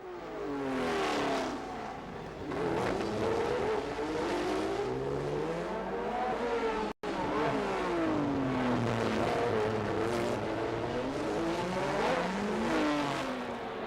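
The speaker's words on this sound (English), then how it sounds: "the whole of the Principality vibrates to the sound of a crocodile of cars, engines echoing through the narrow streets" Formula 1 race cars from 1971 scream through the narrow streets of Monaco, engines rising and falling in pitch as they pass one after another, with loud howls echoing off buildings.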